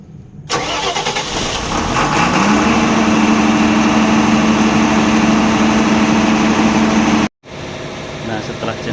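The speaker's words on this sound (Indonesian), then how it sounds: "Nah, setelah gensetnya kita running, kita tunggu selama 5 menit untuk mengaktifkan breaker ke posisi on." Close by, a diesel generator set for a power-plant demonstration starts and runs with a loud, steady engine drone and a strong low hum, then cuts out abruptly near the end before the noise resumes.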